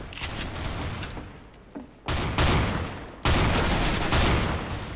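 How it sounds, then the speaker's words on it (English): A sawn-off shotgun fires in the Counter-Strike video game: loud, blasting bursts that hang on briefly, with a big burst near the middle and another further on. "This is probably my favourite shotgun"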